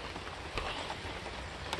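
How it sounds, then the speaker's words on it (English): Steady rain patters on surfaces outdoors as a storm approaches, a dense constant hiss with a few sharper drop hits, no voices. "it looks like it's starting to rain and storm"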